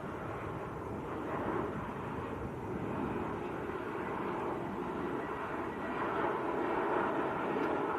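Turkish Airlines Airbus A321neo arriving at Manchester Airport after a flight from Istanbul, a steady broadband jet roar at moderate distance that swells slightly toward the end, with no voices over it.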